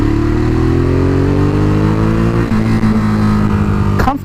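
A Ducati Monster 821 motorcycle leans through a bend, its engine droning close and loud as the pitch climbs steadily, then eases off with a slight lurch before a short clunk near the end.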